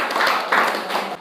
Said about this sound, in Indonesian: Bagus, tepuk tangan untuk Wildan